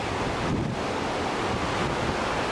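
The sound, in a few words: Pacific Ocean waves and wind from a Hawaii balcony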